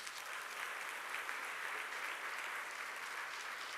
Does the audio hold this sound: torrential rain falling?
no